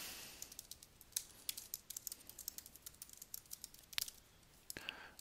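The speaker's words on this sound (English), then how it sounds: "you just start typing" Rapid typing on a computer keyboard while writing in the Conjure app, a run of close, light key clicks in uneven bursts with a few sharper, louder taps near the end.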